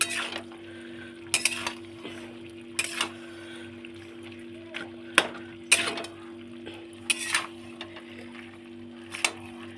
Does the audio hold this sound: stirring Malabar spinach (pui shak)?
yes